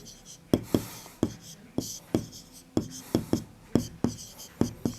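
Chalk or marker strokes on a classroom board during a geometry lesson, a run of distinct tapping scrapes in an uneven rhythm, close and moderately quiet, with no voice heard.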